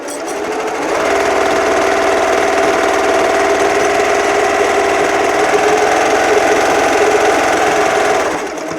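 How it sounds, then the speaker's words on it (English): A sewing machine stitches a long diagonal line across a terry kitchen cloth, its steady motor hum loud and close, starting up within the first second and running evenly before stopping near the end. "now we can sew a diagonal line across the piece here"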